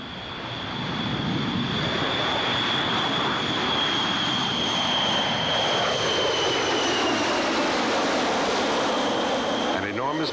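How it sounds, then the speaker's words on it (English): A B-52 bomber roars off the runway on the Pacific island of Guam, its jet engines a loud, steady, broadband thunder that holds for the whole span with a high whine riding on top. "B-52 thunders into the air as it leaves the tiny island of Guam"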